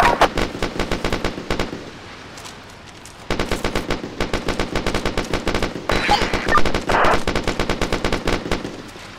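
Automatic weapon fire in the military video game ARMA 2 during a convoy mission: long, rapid bursts of machine-gun shots, separated by short pauses, with a dense rattling rhythm throughout.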